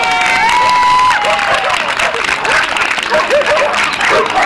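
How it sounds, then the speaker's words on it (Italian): An audience at an afternoon dog-themed gathering of a newly formed association breaks into loud applause mixed with cheering, whistles and scattered voices and laughter, sustained throughout. "Applauso!"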